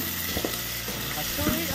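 Ginger, onion and tomato sizzle steadily in hot cooking oil, a close, continuous crackle with a few soft stirring knocks.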